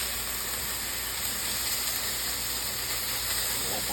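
Pork and vegetables stir-frying in a hot pan over high heat, a steady, loud sizzling hiss that holds evenly throughout with no voice.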